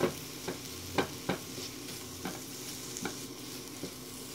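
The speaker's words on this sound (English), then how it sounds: "Once you get it going, you hear that sizzle, you know you are on your way" Sausage and peppers sizzle quietly in a pan, with periodic scraping and clacking as they are stirred every half second or so.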